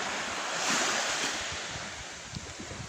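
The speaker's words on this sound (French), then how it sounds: "Écoute le son des vagues." Steady rushing ocean surf with waves washing in, mixed with gusty wind noise, fairly loud and continuous with no voices.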